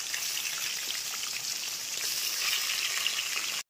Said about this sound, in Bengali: এর মধ্যে মাংসটাকে দিয়ে ভাজতে দেবো